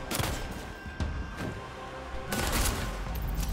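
Rapid bursts of gunfire in the fast-paced shooter Bloodhunt, loud and close, with a volley near the start, a brief lull, then a heavier barrage of shots toward the end.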